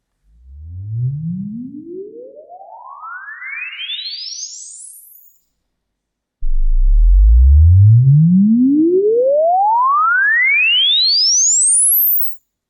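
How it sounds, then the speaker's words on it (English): Two rising sine-tone sweeps across the full audible range glide from a deep low hum up to a piercing high whistle, the second louder and steadier, separated by a brief silence. "listen twice to a frequency sweep over the full audio or audible range"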